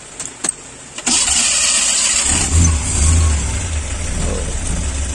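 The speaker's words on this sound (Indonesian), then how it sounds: "Kita akan coba starter ya." A car fitted with a CNG conversion kit cranks briefly with a few clicks, then catches and starts, its engine swelling into a loud, steady idle with a slight rev near the start.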